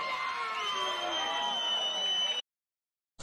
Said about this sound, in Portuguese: Palmas e barulho pra essa batalha!